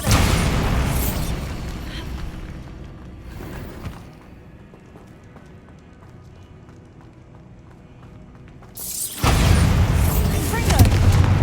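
Bombarda spell explosions in Hogwarts Legacy, a loud booming blast at the start, another mid-clip, then a heavy rumbling burst near the end, separated by a quieter stretch of low ambience.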